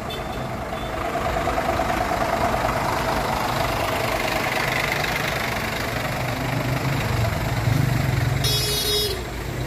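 A heavy diesel tronton bus engine idles steadily with a deep rumble, and a brief burst of high beeping near the end; no talking.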